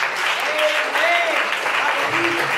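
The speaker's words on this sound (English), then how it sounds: "Y'all give God a hand clap of praise." A church congregation gives a sustained hand clap of praise during a sermon, a thick continuous roar of clapping with a few voices calling out over it.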